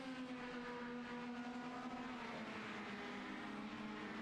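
IndyCar race cars in a CART racing video game at the Brickyard, a steady, loud engine drone holding a high pitch that sags slightly late on, continuous with no pauses and no talk.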